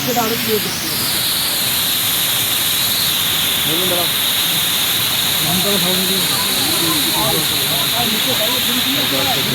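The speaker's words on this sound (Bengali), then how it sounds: "আর এইখান থেকে ওয়াটারফলটা উপর থেকে দেখা যাচ্ছে।" The Changu Falls waterfall heard from a viewpoint above, a loud, steady rushing roar of falling water throughout, with people talking faintly underneath.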